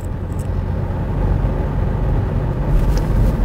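Steady low engine rumble of a Mitsubishi Pajero Sport from inside the cabin, the drone swelling slightly as it picks up speed, with no voices.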